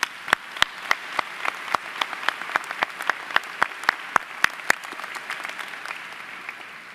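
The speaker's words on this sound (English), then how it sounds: "Please join me in applauding these special guests." Audience at a commencement ceremony applauds, a sparse run of distinct claps from a modest crowd, fairly close and steady before thinning and fading toward the end.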